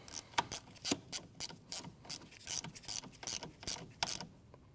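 A small wrench ratchets a nut tight on a neutral safety switch terminal of a 2012-2016 Honda CR-V, a series of quiet, uneven clicks and metallic taps close by.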